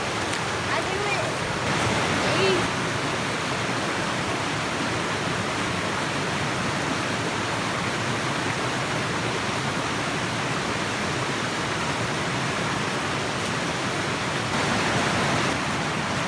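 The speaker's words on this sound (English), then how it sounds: "Nice little rolling mountain creek coming down these rocks." Small mountain creek on Indian Creek in the Cherokee National Forest, Tennessee, rolling over rocks at a little waterfall, a steady close rushing wash of water filling the whole stretch.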